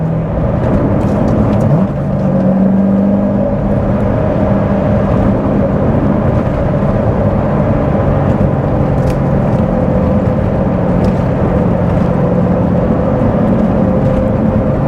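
A manual Chevrolet Corvette C7 Z06 driven at night, its engine a loud, steady drone with a brief shift or lift near the start, then sustained cruising roar and road noise with no talking.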